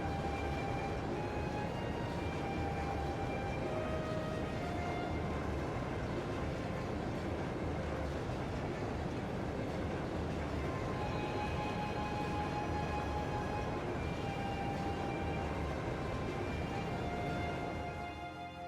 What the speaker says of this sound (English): the high-speed train Crusader, sure.